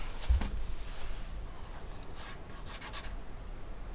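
Rubbing against a moldy, damp shipping container wall with an unfinished surface, heard as a soft, continuous rasping scrape that rises briefly near the start and then settles into a steady, faint friction.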